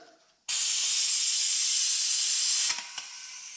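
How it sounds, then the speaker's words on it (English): A loud, steady hiss from a vacuum brake bleeder hooked up on a Fox body car's overheated brakes starts abruptly, holds for about two seconds, then cuts off with a couple of small clicks. "I guess I'm gonna hook up the vacuum here"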